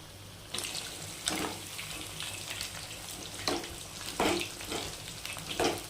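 Chicken pakoda pieces fry in hot oil with a steady bubbling sizzle, and louder splashing or stirring bursts recur every second or so over the frying.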